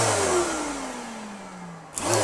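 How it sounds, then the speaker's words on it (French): A sander's motor whine winds down in pitch, falls briefly quiet, then a click of a master-slave switch and a shop vacuum starts up with a rising whir. "j'allume la ponceuse, ça déclenche l'aspirateur"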